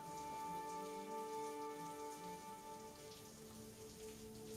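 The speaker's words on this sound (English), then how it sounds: "We can hear the rain." Steady rain falls outside, a dense even patter on surfaces heard alone and fairly quiet, with no voices, continuous for the whole stretch.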